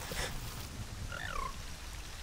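Frog croak from The Legend of Zelda: Ocarina of Time, a short warbling call that rises and falls once, moderately loud over a steady game background hum.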